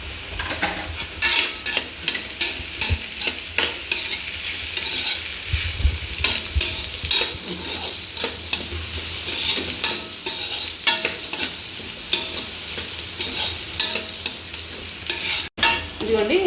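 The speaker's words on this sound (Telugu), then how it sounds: "ఇదిగోండి ఇలా అయితే తోటకూర వేపుడికి ఉల్లిపాయలు ఇంత బాగా వేగాలండి" Onions sizzle steadily in hot oil with a little turmeric for an amaranth leaf fry, with a spatula stirring and scraping the pan now and then, close and continuous with no talk.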